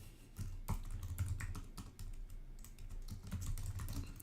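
Continuous typing on a computer keyboard while coding, a steady run of close, soft key clicks with a few short pauses and no voices.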